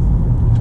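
Naturally aspirated 2.4-litre four-cylinder engine of a 2017 Honda Accord while driving, a steady low rumble heard from inside the car for a brief moment, with no talking.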